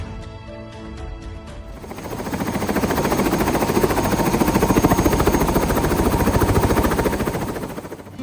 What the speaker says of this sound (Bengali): আজকের হেলিকপ্টার রাইডের বুকিং করেছিলাম গ্লেসিয়ার সাউদার্ন লেকস হেলিকপ্টারের সঙ্গে